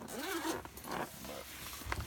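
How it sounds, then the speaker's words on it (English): A zipper on an Explorer Tactical 3 padded rifle case is drawn in a few short, quiet pulls, heard close up. "It's got a lock on the zipper."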